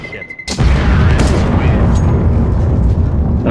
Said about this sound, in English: How do you die from an explosion that is behind a massive wall?